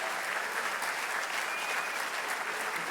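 An audience at a high school varsity sports awards event applauds steadily. The clapping is dense and continuous, at moderate loudness, with no voices standing out.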